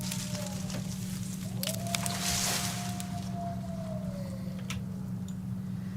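A single long, wavering wolf howl in the DayZ video game, rising then slowly falling, moderately distant over a steady low droning hum.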